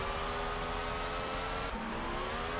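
A Formula 1 car pulling out of the pit lane during a wet Italian Grand Prix on intermediate tyres, its engine a steady, buzzing whine with a brief dip and pitch shift partway through, close and constant.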